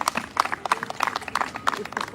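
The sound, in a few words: audience applause for the yoga performers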